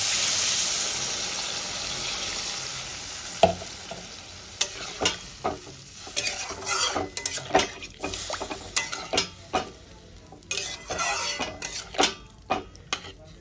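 Liquid poured into a pan of fried spice paste for a Bengali katla fish curry, hissing and sizzling hard at first, then giving way to a run of sharp stirring clatters and splashes close by.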